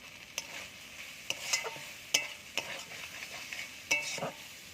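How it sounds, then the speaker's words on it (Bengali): Spice paste with chili powder being stirred and sautéed in a pan, with repeated sharp scraping strokes of a spoon over a soft continuous sizzle, close and fairly quiet. "এবার ভালো করে আর একটু ভালো করে মশলাটা কষিয়ে নেবো"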